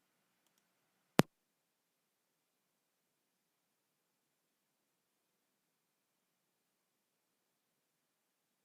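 A single sharp computer mouse click sounds once, close and crisp, followed by near silence.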